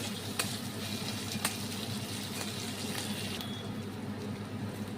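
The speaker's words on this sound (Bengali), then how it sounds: "পেঁয়াজটা ভাজবো।" Onions with ginger, garlic and green chillies frying in a pan for an Indian egg korma give a steady, close sizzle, with a few soft stirring scrapes and no talking.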